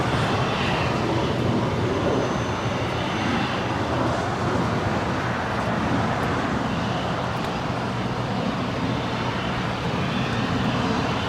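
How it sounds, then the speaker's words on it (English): A JSX Embraer ERJ 135 LR regional jet arrives at LAX from Las Vegas, a loud, continuous roar of jet engines that holds steady throughout with no speech. "JSX Flight 322 coming in from Las Vegas. It's an ERJ 135 LR."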